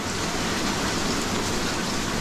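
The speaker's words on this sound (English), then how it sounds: "You can probably hear it raining outside." Steady rain patters densely on a caravan roof, a continuous hiss of drops with no voices.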